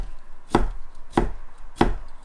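A knife chops vegetables into long strips for a stir-fry, three sharp, evenly spaced cuts striking a board up close, with no talking.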